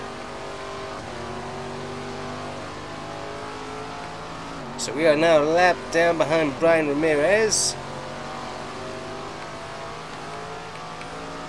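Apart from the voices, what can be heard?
super-late model race car engine, rear tires spinning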